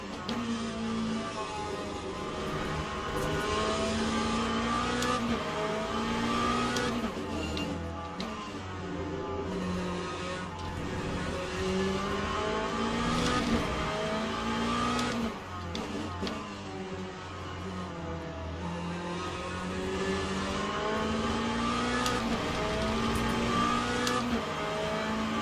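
A prototype race car engine in the racing game Le Mans Ultimate at Fuji: a steady, high-pitched engine note that rises and falls through gear changes, continuous and close throughout.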